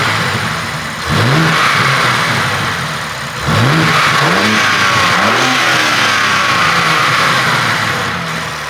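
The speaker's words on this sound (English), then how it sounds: "I did let the car warm up before revving it" A BMW G80 M3 with a stock exhaust, engine warmed up, revs hard in several sharp blips that rise and fall over a loud steady idle. The sound is close and there is no talk.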